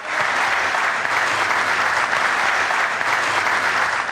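Studio audience on a morning TV show breaks into loud, sustained applause, a dense even wash of clapping that holds steady throughout without a break.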